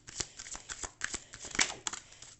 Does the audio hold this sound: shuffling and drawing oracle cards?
yes